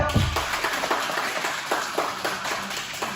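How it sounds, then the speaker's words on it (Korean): Audience clapping at a black-belt promotion test, a steady patter of many hands with sharp repeated claps, fairly near and filling the short stretch alone. "바로 박수 보내주세요."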